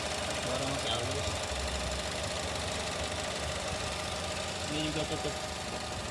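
Chevrolet Spin LS car engine idling with a smooth, steady low hum and faint rhythmic knock, close by, while someone speaks briefly over it.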